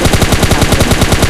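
Rapid automatic spray from a Mini14 rifle in PUBG Lite, a loud, steady stream of gunshots at an even fast rhythm filling the whole moment.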